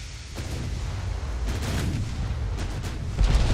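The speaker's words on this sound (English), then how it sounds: "Fire your armor-piercing shells." Heavy naval gunfire from armor-piercing shells in Ultimate Admiral: Dreadnoughts, a continuous rumbling barrage of booms with a louder blast near the end.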